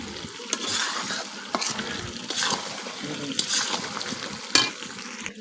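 Chicken and potatoes being stir-fried in a pan with papaya, a continuous sizzle broken by scraping stirs and the odd clink of a spatula against the pot, close by and with no talking.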